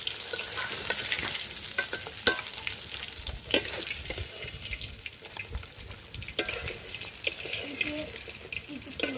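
Small hilsa fish fry in hot oil with a continuous crackling sizzle, punctuated by scattered sharp pops and spoon scrapes, close and steady, with no talking.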